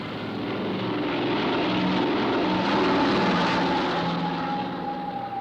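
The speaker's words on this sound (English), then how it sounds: "Today in Inuvik, we are expecting an airplane to arrive." An airplane arrives at Inuvik, its engine and propeller drone building to a loud, steady roar that peaks midway and then eases slightly.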